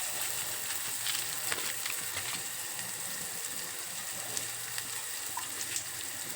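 Onions and cumin fry in hot oil for gongura pachadi, a soft, even crackle and hiss that runs without break and has no voices over it.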